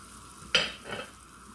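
Chopped onion drops into a pot of boiling water, giving one abrupt splash and hiss followed by a softer, shorter burst over a low steady background.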